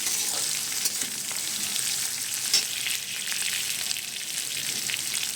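Dried red chillies fry in a pan for a South Indian carrot chutney, giving a continuous even sizzle with faint stirring scrapes and no voices.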